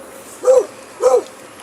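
A dog barks twice near a memorial circle in Quezon City, two short, clear, fairly loud woofs about half a second apart against a quiet outdoor background.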